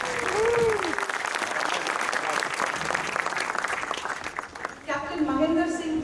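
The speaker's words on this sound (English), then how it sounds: "A round of applause. And keep clapping till I tell you to stop." Sustained applause welcoming the Indian cricket team at a reception at the Indian High Commission in Canberra, a dense clapping roar that thins near the end as a voice and other sounds come in.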